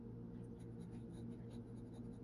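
Fountain pen nib writing with pink ink on paper, a soft steady scratch running continuously and close up, quiet and alone with no talking.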